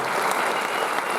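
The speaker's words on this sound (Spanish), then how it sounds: "Dale un aplauso a Dios por esta misión." A congregation gives a brief burst of thick, sustained applause during a church leadership talk, close and full throughout.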